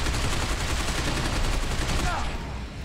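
Rapid gunfire from a futuristic squad-shooter video game fills the whole stretch as a dense, loud, continuous burst, easing slightly near the end.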